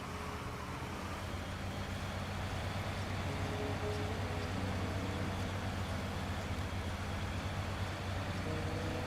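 A truck engine in the SnowRunner game rumbles steadily as it drives, a low continuous drone at moderate volume with no voices over it.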